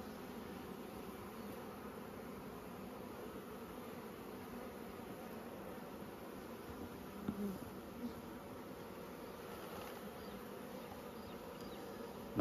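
Honeybees buzz steadily at an open hive during a frame inspection, a constant close-up drone of many bees with no talking.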